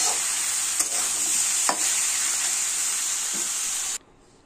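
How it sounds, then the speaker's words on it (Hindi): Potatoes and fenugreek leaves frying on a high flame, a loud, even hiss and sizzle with a couple of stirring knocks before it cuts off abruptly near the end. "गैस का फ्लेम तेज रखिएगा और इसको बहुत अच्छी तरह से फ्राई कर लीजिए।"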